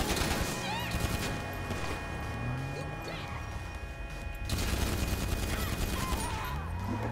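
Dense gunfire from the video game Grand Theft Auto V, with continuous loud shots, crashes and mechanical clatter filling the whole stretch at a steady level and no pause.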